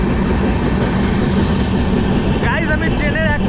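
A passenger train on the Kolkata to New Jalpaiguri route, heard from the open coach door, gives a loud, continuous, close rumble and rattle, joined near the end by brief wavering high-pitched whines.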